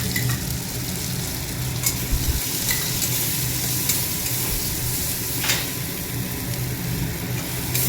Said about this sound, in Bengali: কচুর বাটাটা সম্বাদ দিয়ে দিচ্ছে কালো জিরা দিয়ে